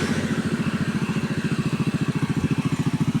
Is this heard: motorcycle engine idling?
yes